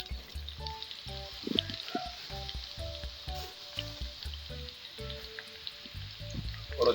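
Dried red chillies sizzle in hot oil for a Malayalam-style mango pickle, a steady close crackling hiss that runs throughout, with no voices.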